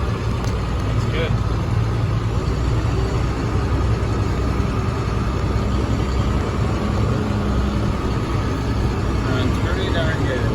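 A 2004 International truck's engine runs steadily while driving, a loud continuous low rumble filling the whole stretch with no gaps, and a voice speaking over it.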